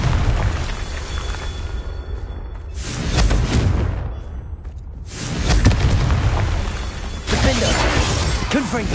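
Several Confringo spell blasts erupt in Hogwarts Legacy, loud fiery bursts landing in quick succession with crackling debris and shattering between them, set against busy game ambience.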